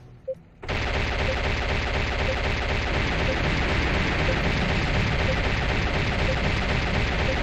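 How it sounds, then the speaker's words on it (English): A manually operated gun tower in the game Battlezone fires plasma shots in a dense, continuous rapid stream, loud and harsh, starting abruptly after a brief quiet moment. "Firing off my plasma shots."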